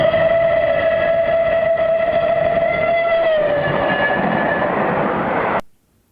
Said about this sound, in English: we have our train approaching. I want you to listen to the train whistle as the train goes